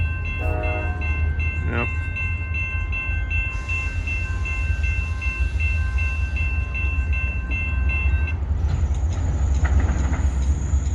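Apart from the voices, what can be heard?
CSX train passing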